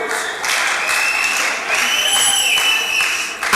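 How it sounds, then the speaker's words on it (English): An audience at a rally claps in sustained applause, a dense wash of hand claps that swells and continues throughout, fairly close and loud, with voices mixed in. "Okay, clap for me."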